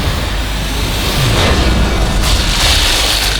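An explosive barrel blows up in the video game Sniper Elite 4. A loud, dense roaring blast fills the clip and holds steady with no break.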